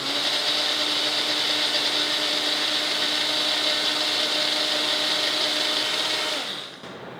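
A blender whirs steadily at high speed as it mixes a whey protein shake, a loud continuous motor drone that runs for about six seconds and then cuts off abruptly.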